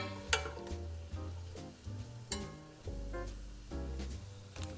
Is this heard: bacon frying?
yes